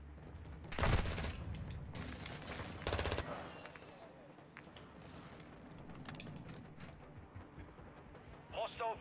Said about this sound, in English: hostile airstrike incoming